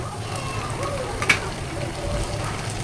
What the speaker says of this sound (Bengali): পেঁয়াজ রসুন দেওয়ার পরে আমি একটু বাদামি কালারের মতো ভেজে নিচ্ছি